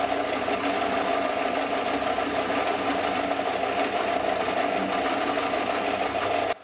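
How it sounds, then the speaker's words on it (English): A metal lathe turns down a 10 mm steel shaft for a sheet-metal punch, giving a steady, loud, continuous mechanical whir with a constant hum and no talk, then cutting off abruptly at the end. "I'll turn down a 10 mm shaft with a bit of clearance behind it"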